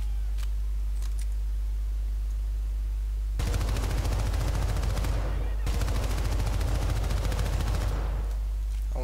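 Rapid automatic gunfire from the video game Syndicate, two sustained loud bursts of about two seconds each, separated by a short pause, over a steady low background hum.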